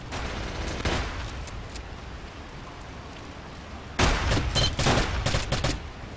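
Shots ring out during a shooting tournament match, with a few scattered reports early on and a denser, louder cluster of rapid bursts in the later half over steady background noise.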